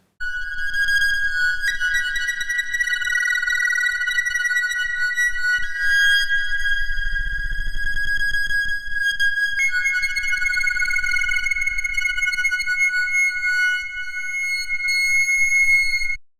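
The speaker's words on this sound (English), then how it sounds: "what you hear here are only the two cDVCAs being sequenced and modulated" Clean, high sine-like synth tones from two sequenced and modulated modular synth VCAs pulse in a steady sequence, pitches shifting occasionally, with soft low thumps swelling and fading beneath.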